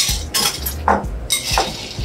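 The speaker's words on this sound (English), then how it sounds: "We're going to give it a quick stir." A Spanish Negroni of Amontillado sherry and sweet vermouth is given a quick stir in a mixing glass, with a few scraping clinks of spoon and ice close up over about two seconds.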